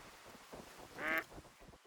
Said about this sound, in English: Oh, I hear some ducks flying over